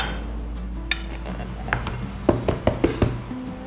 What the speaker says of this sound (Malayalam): ഇനി നമുക്കൊരു പ്ലേറ്റ് വെച്ച് കമഴ്ത്തി എടുക്കാം